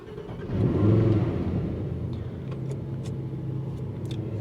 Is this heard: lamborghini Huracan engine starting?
yes